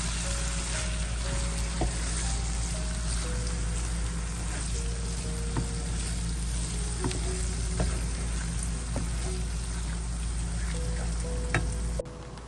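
Tomatoes frying in a pan give a steady, dense sizzle with occasional stirring clicks, continuous and close for the whole stretch before cutting off abruptly at the end.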